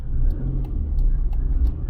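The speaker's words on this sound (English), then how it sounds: "Traffic's terrible today." Steady car engine rumble from inside a vehicle crawling through heavy traffic near a town centre on the way to Snake Pass, loud and continuous throughout, with no talk.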